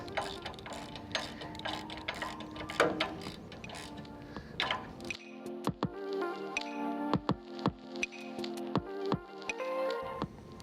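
A ratchet clicks in quick bursts of repeated pawl ticks as it tightens a Koni shock absorber on a Miata, close and fairly quiet, with short pauses between strokes.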